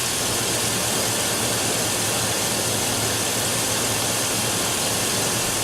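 A 2000 Chevrolet Suburban engine with no alternator output runs steadily, a loud, even mechanical drone with constant idle throughout and no voices.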